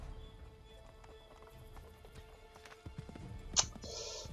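Hooves clop at a riding pace in the video game Assassin's Creed III, moderately quiet under game ambience, with a brief sharp sound near the end.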